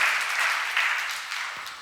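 A church congregation at a Sunday service applauds together, a dense wash of clapping that holds steady for under two seconds, loud and close.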